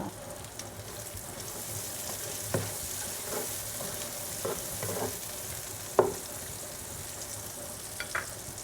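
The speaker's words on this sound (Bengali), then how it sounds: "এখন আমি সেই মাছ ভাজা তেলেই আমি দিয়ে দিব হাফ কাপ পেঁয়াজ কুচি" Chopped onion frying in oil left from frying hilsa fish, a constant close sizzle with occasional spatula scrapes and taps against the pan.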